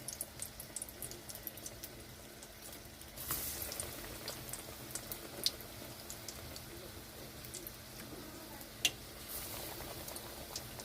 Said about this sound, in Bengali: বেসনে ডোবা বেগুনগুলো তেলে ছেড়ে দিচ্ছি ভাজার জন্য।